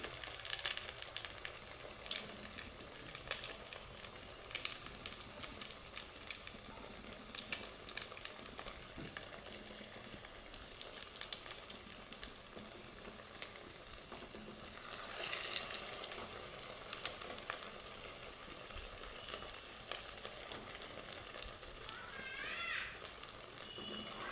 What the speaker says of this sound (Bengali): তো দেখো এগুলো আমি এভাবেই লাল লাল করে ভেজে নেব